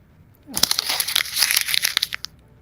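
A Post-it note is crumpled up close by, giving a dense run of crisp crinkles and sharp paper snaps for about two seconds before it tapers off.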